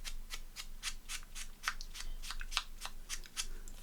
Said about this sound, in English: just cut it and stick it.